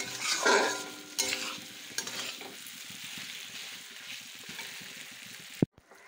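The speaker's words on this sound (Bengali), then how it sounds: "চলো এবার ঝোলটা দিয়ে দেবো" Fish curry with fried spices and potatoes sizzles in a pan as liquid is poured in and stirred, giving steady frying hiss with scraping spoon strokes and a sharp clack near the end.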